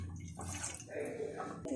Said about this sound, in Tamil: நம்ம ஒரு டம்ளர் தண்ணி ஊற்றிக்கலாம்.